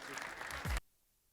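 A short burst of audience applause at a Kazakh youth debate league event, close and dense, ending abruptly in near silence.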